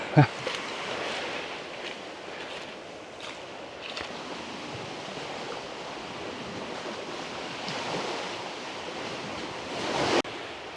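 Surf washing onto a tiny, private beach on a small island off Koh Chang, heard as a steady broadband wash with wind, no voices, and a slightly louder swell near the end.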